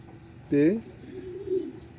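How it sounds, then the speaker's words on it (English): A pigeon coos once loudly and close, a short burst, followed by softer low murmuring; the bird appears in good health. "The pigeon is still in a very good health."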